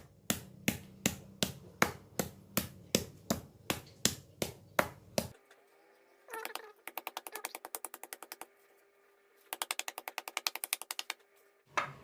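Beef slices for dendeng pounded flat: a steady run of about a dozen loud, evenly spaced thuds, then after a short pause, faster bursts of lighter rapid tapping come close and clear.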